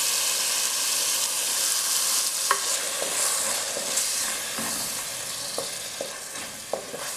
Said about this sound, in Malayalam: അത് ഇതിനകത്തേക്ക് ചേർത്തൊന്ന് അതിൻ്റെ പച്ചച്ചി ഒന്ന് മാറുന്നവരെ ഒന്ന് വഴറ്റി കൊടുക്കണം